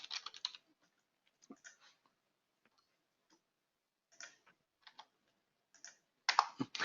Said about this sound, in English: let me just type in sales here